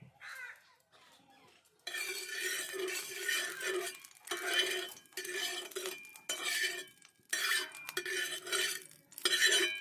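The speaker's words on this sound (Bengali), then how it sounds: "ভালো করে আমি তেলটা মাখিয়ে নিয়েছি" Metal spatula scraping and clinking on a hot iron tawa while oil is spread across it for radish paratha, in repeated short bursts with brief pauses between strokes.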